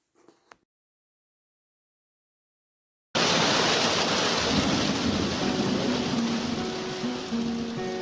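Heavy rain pours steadily after a few seconds of near silence, a dense loud hiss with a low rumble of thunder rolling beneath it, no voices.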